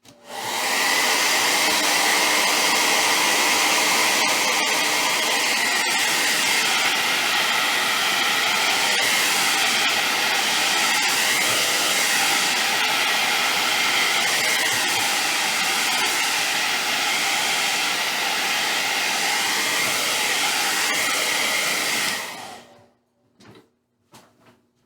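A heat tool blows steadily over texture paste on a craft project, giving a loud, continuous close-up whir that runs without a break for about twenty-two seconds before it clicks off.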